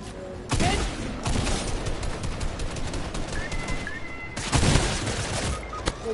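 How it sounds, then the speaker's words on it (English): Gunfire in Fortnite: rapid bursts of loud game shots and sharp cracks in several clusters, with a busy mix of other game sounds between them. "I'm shooting at somebody else."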